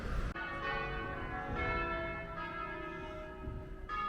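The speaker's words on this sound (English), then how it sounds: "I can see the bells now. We'll walk towards the bells." Church bells ring out near an Italian lake with a steady, sustained peal of overlapping tones that carries on throughout, loud and somewhat distant, with no talking.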